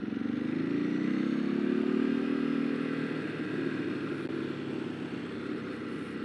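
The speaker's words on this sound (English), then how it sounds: "Listen to that roar on engine brake, man." Close, loud rumbling roar of a Ducati 999 motorcycle engine on engine braking, a deep drone that swells then eases into a steady throaty note, with no voices.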